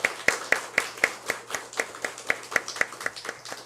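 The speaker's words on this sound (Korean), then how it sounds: "우리 뜨겁게 박수로 환영하겠습니다." A church congregation claps to welcome a deacon returning to worship after a long absence since COVID. The steady, rhythmic clapping continues without a break and sounds moderately distant and soft, with no voices over it.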